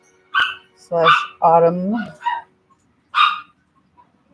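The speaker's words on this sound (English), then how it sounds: "Sorry about the yappy dog." A small dog yaps in short, sharp barks, several quick ones close together and then one more after a pause, loud and close in a quiet indoor room.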